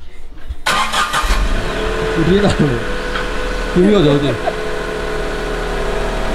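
A car engine cranks and catches, then revs twice in rising, falling bursts before settling to a steady idle, close and loud, with a person speaking briefly over it.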